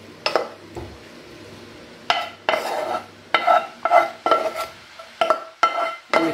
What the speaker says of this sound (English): So what I'm gonna do now is add on my mushrooms and sausages.